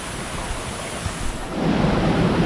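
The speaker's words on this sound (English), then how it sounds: "There's a waterfall that dumps right there." A waterfall pours into a pool in a steady broadband rush of falling water, close and loud, swelling heavier toward the end, with no voices.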